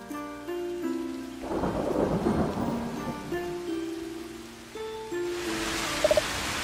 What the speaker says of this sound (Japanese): ほんとの雨だ！ やった！